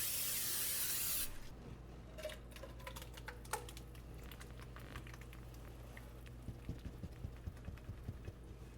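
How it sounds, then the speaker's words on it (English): A short hiss of cooking spray onto a 13 by 9 inch pan lasts about a second, followed by faint clicks and light tapping in an otherwise quiet room. "I'm going to spray a 13 by 9 inch pan"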